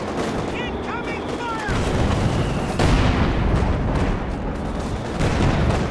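Continuous battlefield din from butterfly bomb explosions in the video game Company of Heroes 2, with dense crackling bursts and a few heavier thuds layered over the ongoing noise of war.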